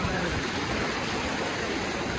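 Floodwater pouring over a barrier of sandbags in a flooded village, a steady broadband rushing wash, close and continuous with no pauses.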